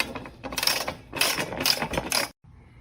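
A ratchet wrench loosens a bolt on the metal headlight bracket of a 2015 Honda Civic, giving bursts of rapid clicking in three close, loud runs before stopping abruptly.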